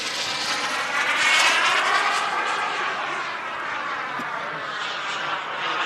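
A Turbinator turbine-powered model jet makes a flyby at a jet model airshow, its loud steady whine and roar sweeping past as the pitch drops off.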